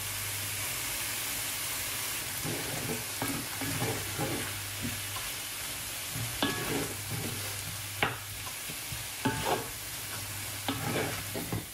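Rice goes into a hot pan and is stirred through, a steady frying hiss under repeated close scraping and tapping of a utensil against the pan, no voices.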